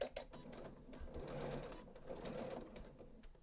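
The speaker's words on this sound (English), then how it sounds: "I'm going to stop here and back stitch" A Janome sewing machine running a short burst of back stitching while sewing a bag: close, steady mechanical whirring with brief stops and restarts.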